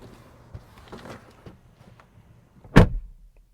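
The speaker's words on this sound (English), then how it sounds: "Door open and close sound" Quiet muffled shuffling and clicks, then a single solid thud of a 2021 Audi Q5 door shutting, heard from inside the cabin.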